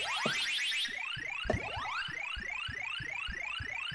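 Ms. Pac-Man game effects on PC: repeated rising chirp tones in quick succession with a ringing, echoing reverb tail, steady and moderately quiet with no voices.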